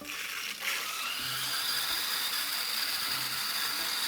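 Water hisses and rushes steadily through a 300 Series water softener control valve as its inlet valve is slowly opened in backwash position, a continuous close flow with faint clicks of the valve being turned.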